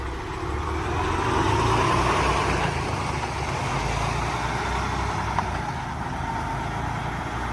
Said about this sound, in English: my brother wants to test drive the new Peterbilt out, so here we go